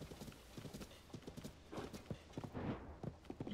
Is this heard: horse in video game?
yes